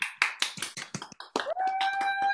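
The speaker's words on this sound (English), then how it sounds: "let's all unmute for just a moment and clap and cheer for Reverend Deborah" Members of an online worship congregation, unmuted on a video call, clap and cheer for Reverend Deborah: scattered, uneven claps and taps from several households, ending in a sustained bright tone, fairly close and moderately loud.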